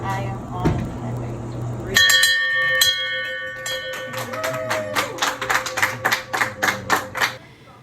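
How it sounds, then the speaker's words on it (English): A bell marks the end of chemotherapy: one strike rings out clearly and keeps ringing, then a quick series of further rings and clapping follows. People talk and make other noise under the ringing. "Ring this bell 3 times"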